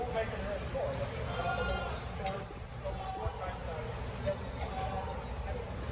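Boer goats bleat at a sale, with several faint wavering calls scattered across the clip under a constant background of people talking nearby.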